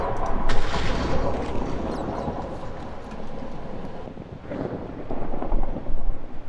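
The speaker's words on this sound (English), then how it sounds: "That lightning just blew up here, but it sounded like it actually broke something" A lightning strike and thunder in the Minecraft video game give a loud crack, then a long rolling rumble that swells again near the end, heard alone with no voices.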